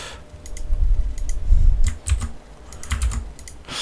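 Rapid clatter of keys on a computer keyboard, a worn one that sometimes fails to register, typed in bursts of quick close clicks with short pauses, no voices.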